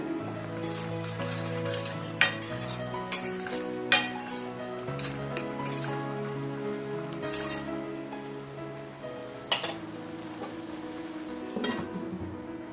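A thick pan of dhaba-style paneer, cashew and capsicum curry is stirred steadily, a spoon scraping and tapping the metal over a soft simmering sizzle, with a continuous tonal background underneath and no talking.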